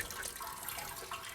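Fluid pours out of a Toyota car radiator as it drains, a brief close splashing trickle of liquid running steadily with no voices.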